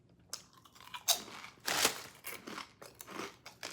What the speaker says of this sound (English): Nice, hearty, and crunchy.